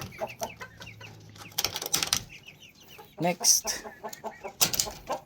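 Japanese bantam chickens cluck in short, choppy bursts inside a cabinet-type cage, close and fairly clear, with occasional rattles and a brief spoken word among the calls.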